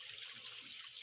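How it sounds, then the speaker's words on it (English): A kitchen tap runs steadily as hands are washed under it, a close, even hiss of flowing water with slight splashing variation and no talk. "Let me wash my hands."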